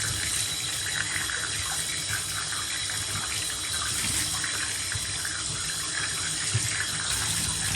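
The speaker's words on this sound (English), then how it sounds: "then we'll go back under here one more time and rinse it off" Steady tap water runs over a K&N engine air filter being rinsed under a faucet at a sink, a continuous close splashing flow with no pauses and no voices.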